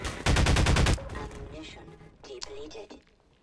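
A rapid burst of enemy gunfire in Half-Life 2: Lost Coast, a loud close string of automatic shots lasting under a second, followed by quieter scattered game sounds.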